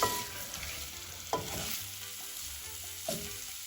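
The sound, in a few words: potatoes sautéing in green curry paste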